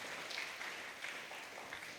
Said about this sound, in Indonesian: tepuk tangan dulu alumni